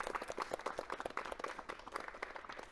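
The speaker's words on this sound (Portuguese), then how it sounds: "salva de palmas aí para Sigo Som" A theater audience gives a modest round of applause, moderately quiet with distinct individual claps scattered through the burst.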